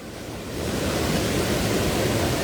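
A river swollen by heavy rain overflows at Ambuklao, roaring as a dense, continuous wash of rushing water that builds in the first half second and then holds steady and loud, with no voices.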